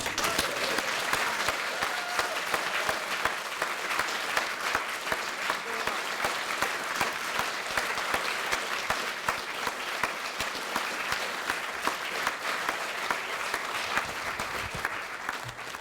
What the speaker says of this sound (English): Please give them all a thoroughly massive round of applause again.